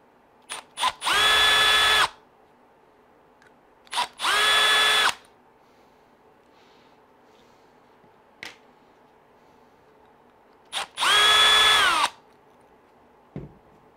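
Cordless power drill backing out screws from the front brace of an Arrma Kraton RC car, three loud sustained whirring bursts with short blips and quiet gaps between, close to the mic.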